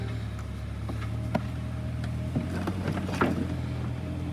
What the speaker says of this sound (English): We'll keep the engine idling